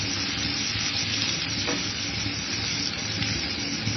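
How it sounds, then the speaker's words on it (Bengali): Onions frying in oil left over from frying tangra fish for a bhuna, a dense, loud, continuous sizzling hiss heard up close, steady throughout with no voices. "এখন আমি তেলের মধ্যে পেঁয়াজ দিয়ে দেব।"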